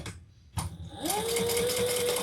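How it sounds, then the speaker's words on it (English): A sewing machine top stitches a seam on a bag, starting after a couple of soft bumps and then running in a fast, steady, close whir with a rising motor whine. "Then we're going to turn that and top stitch on that top piece again."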